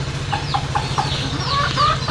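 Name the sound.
chickens clucking as they fly down from roof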